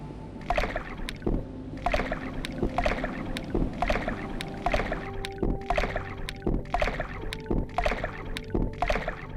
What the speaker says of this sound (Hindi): राजकुमार नाव चलाना शुरू करते हैं।